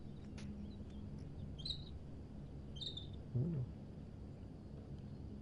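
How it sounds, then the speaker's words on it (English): A few faint, brief bird chirps in the video game Heavy Rain, sounding over a quiet indoor room tone, with a short low sound in between. "I'm gonna ignore the bird this time."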